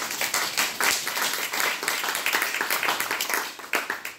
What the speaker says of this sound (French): et vous pouvez même les applaudir.